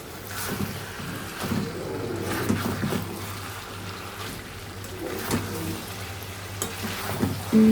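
Spiced, marinated food fries in a pan as it is stirred, a steady close sizzle broken by several louder scraping stirs, with no talking.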